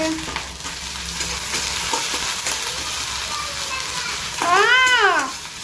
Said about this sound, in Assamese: পিঁয়াজটো এনেকৈ ভাজি লৈছোঁ